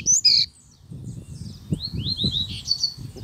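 A double-collared seedeater (coleiro) sings in bright, high chirps, with a short loud phrase at the start and then a run of quick whistled notes over steady low background rumble.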